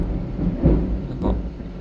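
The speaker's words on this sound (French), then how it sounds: "Désolé pour les orages." Distant thunder rumbles during a thunderstorm outside a vehicle showroom, a low, continuous roll with two soft swells in loudness over steady background noise.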